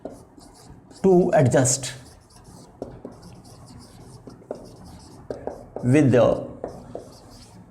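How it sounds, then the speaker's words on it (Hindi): Pen scratching across paper as a word's meaning is written out by hand, soft short strokes running under a man's spoken explanation. "वर्ड पे मीनिंग लिखता हूं"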